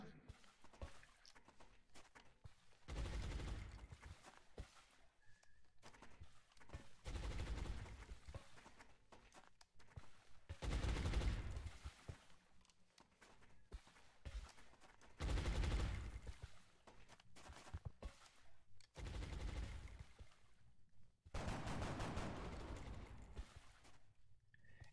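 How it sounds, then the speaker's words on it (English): Gunfire in the XCOM Long War strategy game, heard as several loud bursts of shots spread across the stretch, separated by quieter gaps with faint game noise between them. "And it's choosing to shoot at my soldier who has steadied weapon."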